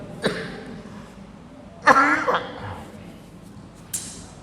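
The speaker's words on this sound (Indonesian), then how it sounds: "Batuk." A single close, rough cough bursts out in the middle, with shorter throat sounds just before and after it.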